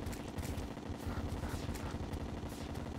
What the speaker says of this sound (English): Avoid that shotgun blast.